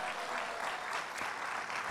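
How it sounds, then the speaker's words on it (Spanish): A church congregation applauding during a Sunday morning worship service, a steady dense wash of clapping that holds at an even level from start to finish with no voices standing out. "Denle un aplauso al Señor en esta mañana"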